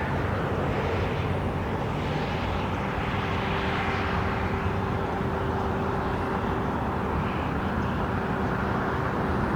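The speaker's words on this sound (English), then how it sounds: "A380 landing 300 yards in front of us" An Airbus A380 passenger plane lands about 300 yards away, its broad steady jet roar holding loud and continuous with a low engine hum throughout.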